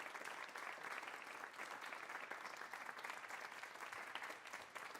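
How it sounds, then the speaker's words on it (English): Steady, continuous clapping within a song, a dense, even wash of claps running throughout without pause, fairly quiet overall. "I forgot these claps don't end either"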